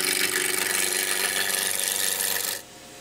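A woodturning lathe tool cuts into spinning wood while shaping a sword, giving a loud, steady broadband rasping scrape that runs continuously for about two and a half seconds before abruptly dropping away.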